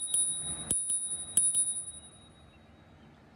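A bicycle bell on a Himiway Cruiser e-bike rings in several quick bright dings, close and clear, then the sound fades into quiet room ambience.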